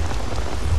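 Steady rain pours down outdoors, a dense, continuous hiss of drops with a low rumbling undertone that runs unbroken from start to finish.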